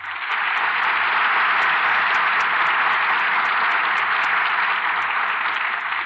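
Dense, sustained applause from a radio theatre studio audience greeting stars Maureen O'Hara, Richard Conte and Veronica Lake, a loud steady roar of many hands holding evenly for about six seconds with no talk over it.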